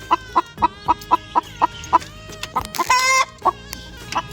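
Hens cluck nearby in a rapid, regular series of sharp calls, with one longer drawn-out squawk midway, in a village setting.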